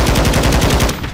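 Sustained machine gun fire in the Call of Duty: Modern Warfare II video game, a rapid, loud, evenly spaced burst of shots running continuously for about a second before cutting off abruptly.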